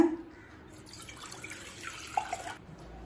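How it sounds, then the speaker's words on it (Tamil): Water runs steadily into a cooking pot, a soft continuous splashing pour that stops abruptly near the end, with a faint metallic clink. "இப்போ தேவையான அளவு தண்ணி சேர்த்துக்கலாங்க."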